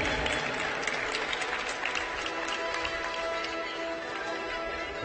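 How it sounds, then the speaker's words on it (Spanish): Steady crowd applause at a Spanish national archery championship team final in women's compound, a dense, even wash of clapping heard from some distance, without talk. "Fuerte el aplauso para María Gómez, para Andrea Marcos y para Ana Alonso."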